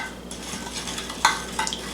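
Spoon stirring crushed Oreo cookies with greasy melted mixture in a pan for a dessert crust, a soft close scraping and mixing with a couple of clinks.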